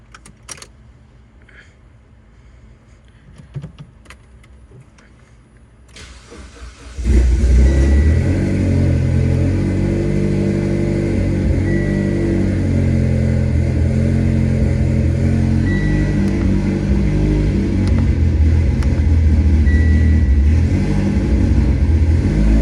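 A Mitsubishi Evo X with swapped camshafts fires up after quiet clicks and tapping, then drives with a loud, steady engine drone and shifting revs from inside the car.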